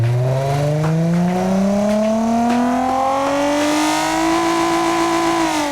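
Simulated car engine in BeamNG fitted with a reverse flow exhaust, revving up steadily in one loud continuous pull with rising harmonic tone, close and alone.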